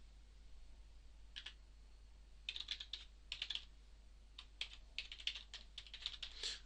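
Keys on a computer keyboard clatter as an email address is entered, quiet clusters of rapid clicks with short pauses between bursts, close and alone with no voices.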